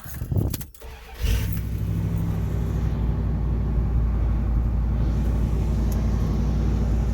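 A 1973 Dodge D100 pickup engine cranks briefly and fires, settling into a steady, loud, close rumbling idle that carries on without talk.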